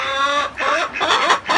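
Chickens and a rooster clucking inside a coop where they are kept shut in, a loud, close, continuous run of overlapping clucks and squawks.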